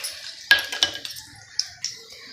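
Handful of cashews dropped into a frying pan of oil while cooking dondakaya (ivy gourd) fry, giving a few sharp clinks and light taps spread over about two seconds, close and fairly quiet.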